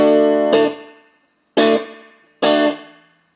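Distorted guitar chords through a 2004 Fulltone TTE tube tape echo set to its shortest delay, three struck chords each decaying into a brief reverb-like tail, loud and close with no talk.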